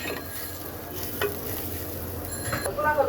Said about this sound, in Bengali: চলো দু এক মিনিট এটাকে একটু হালকা ভেজে নিই